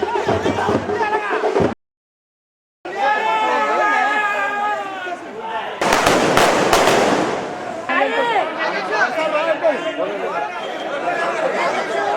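Fireworks set off at a political party celebration, a dense burst of crackling bangs rising midway through loud crowd chatter and talk.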